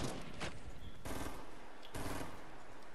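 Gunfire in a Fortnite Battle Royale duos match: several dense bursts of rapid shots cut in and out, loud and close, with brief gaps between volleys.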